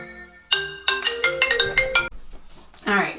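A phone ringtone chimes with a tonal, repeating melodic pattern, fairly loud and close, sounding alone for a few seconds before a brief trailing tone.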